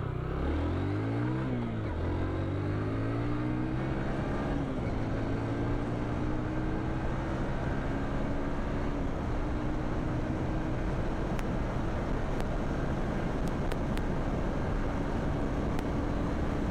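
A Honda CB 150F motorcycle engine revs up and settles into a steady, loud running drone close by, with rising pitch sweeps early on and no talk.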